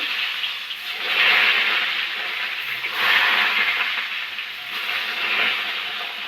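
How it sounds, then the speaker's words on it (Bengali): Eggplant slices frying in hot oil, a steady close hiss and sizzle that swells and eases in slow waves with no speech. "বাকি বেগুনগুলো আমি একইভাবে ভাজা করে নেব।"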